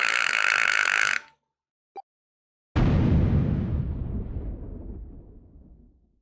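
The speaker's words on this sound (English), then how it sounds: "The explosion rocked the room." A hiss cuts off into silence, then a loud, deep explosion booms and rumbles, slowly fading over several seconds, in the video game Nine Hours, Nine Persons, Nine Doors.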